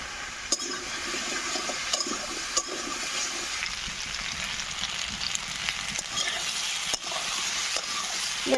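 Potato and papaya pieces frying in a pan with turmeric and salt, a steady hissing sizzle with watery bubbling and a few sharp knocks of stirring, close and continuous without talking.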